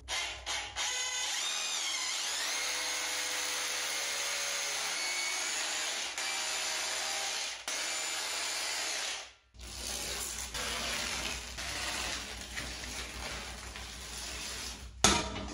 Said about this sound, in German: Jetzt haben wir 6 Bohrungen, 6 Haken, 6 Löcher, die wir jetzt bohren.